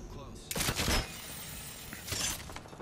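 Apex Legends gunfire from a distance, two short bursts of shots separated by a quiet stretch, fairly faint over low background game noise.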